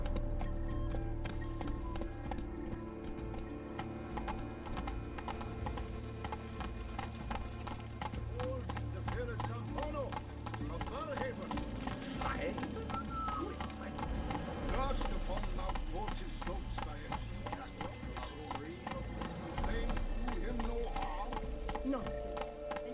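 Horse hooves clip-clop at a steady walking rhythm through The Witcher 3 game, faint and continuous under game ambience and talking voices.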